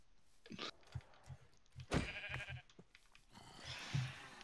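Sheep bleat several times in a blocky survival video game during a UHC match, short bleats mixed with clicks and game noises, moderately loud against a busy background with no talk.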